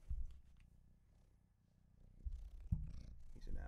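Close, steady purring from a cat pressed right up to a microphone, with a low rhythmic rumble that grows louder near the end and no talking.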